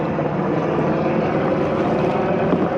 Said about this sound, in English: that helicopter definitely did a loop around here